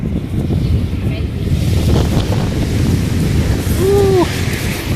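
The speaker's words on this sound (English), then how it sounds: "Ooh, it's windy." Strong wind roars and buffets the microphone outdoors beside a hedge where a horse stands, a steady loud rumble with gusty swells throughout; a person's voice briefly rises above it near the end.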